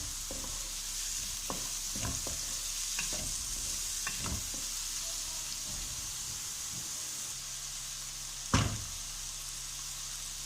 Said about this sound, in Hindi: प्याज को हमने बारीक काटा, इसको हल्का सा फ्राई करना है